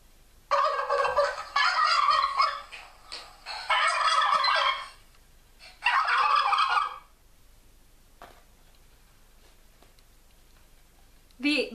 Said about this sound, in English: Turkeys say gobble, gobble, gobble, gobble.